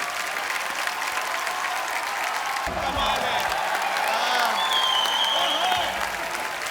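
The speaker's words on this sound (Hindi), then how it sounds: "तालियां जोरदार होनी चाहिए जरा।" A studio audience on The Kapil Sharma Show, a comedy show's Ganesh Chaturthi special, claps loudly and continuously. Midway, tonal musical sounds join the sustained roar of many hands.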